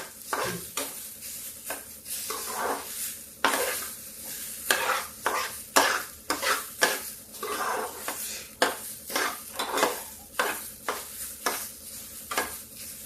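Daliya (broken wheat) roasts in a pan with a little ghee for khichdi. A spoon stirs and scrapes it briskly and repeatedly in a fast rhythm over a faint sizzle, close and alone.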